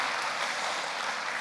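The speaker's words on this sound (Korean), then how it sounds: "박수 좀 보내주세요" A church audience claps after a testimony, a dense, steady wash of applause at moderate distance with no voices over it, lasting the whole short stretch.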